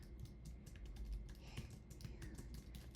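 Quiet, quick keystrokes clatter on a computer keyboard, a run of light irregular clicks close by with no talking.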